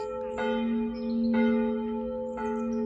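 The bell of the small hilltop church on Rožnik rings with three evenly spaced strikes. Each leaves a long, humming tone that carries over a quiet evening outdoors, with no talking.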